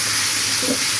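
Taro stolons (kochur loti) sizzle steadily in a hot pan, a close, even hiss of frying with no breaks.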